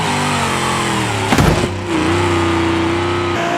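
A Ford Mustang engine revs loudly and close, building to a burst of noise midway and then settling into a steady, rising drone.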